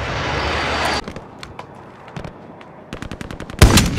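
Gunfire from a shooter video game: a sustained automatic burst, then scattered single shots and a rapid string of cracks ending in a loud, close blast.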